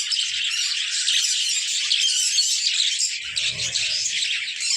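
A backyard budgerigar colony gives dense, continuous, high chirping and chattering close by, with a brief low rustle or thump partway through.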